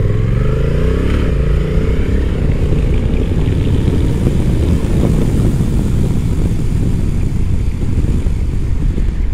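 A 2022 Honda NT1100 DCT motorcycle pulls hard on an open road, engine rising in pitch early on then holding a loud steady drone mixed with heavy wind rush throughout.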